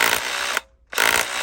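An old cordless SDS drill runs at full speed with a loud, harsh, rattling whine. It cuts out briefly and then spins back up, with no voices.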